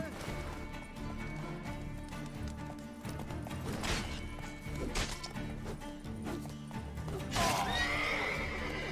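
A horse whinnies loudly near the end amid busy battle noise in the video game The Witcher 3, with clattering hooves, crashes and background voices throughout.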